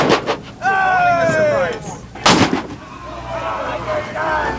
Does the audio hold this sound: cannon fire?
yes